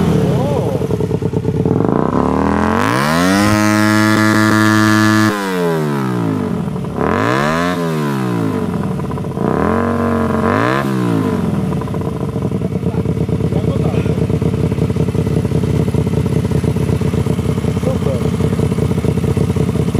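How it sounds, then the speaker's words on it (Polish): A 125 cc motorcycle fitted with an aftermarket ST Projekt exhaust fires up and runs loud and close, with several sharp throttle blips rising and falling before it settles into a steady, throbbing idle. "Co to za wydech jest? ST Projekt, jakiś chińczyk. Aha. Odpalisz?"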